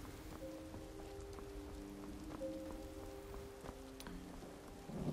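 Steady rain patters on surfaces in the video game Skyrim, a constant close hiss with faint game tones and a few soft footsteps running beneath it throughout.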